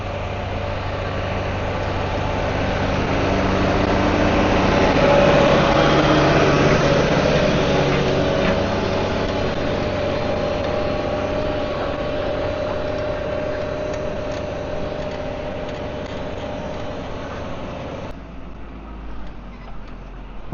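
A tractor fitted with a four-leg Sumo subsoiler drones steadily as it pulls through a field, a loud continuous engine hum that swells slightly midway and drops off near the end.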